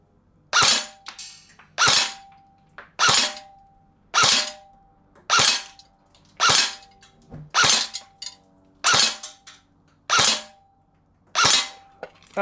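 A G&G RK Beta AK airsoft electric rifle fires ten single semi-auto shots, each a sharp, close crack at slightly uneven intervals of about one second, with quiet gaps between.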